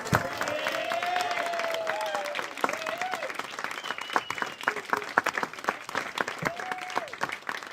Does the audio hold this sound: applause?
yes